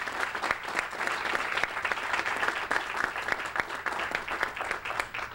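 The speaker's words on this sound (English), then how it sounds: "Let's give the students, staff, and faculty a round of applause" A crowd at a college groundbreaking ceremony applauds steadily and loudly throughout, dense clapping with no pauses and no speech over it.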